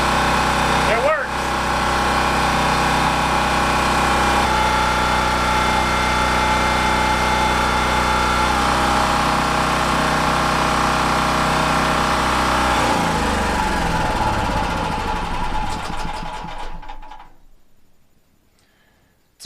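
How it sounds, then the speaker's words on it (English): A large remote-start portable generator engine runs steadily and loudly with a constant mechanical drone and tonal hum, then winds down and cuts off near the end, leaving silence. "It's quite a bit louder than my smaller generator"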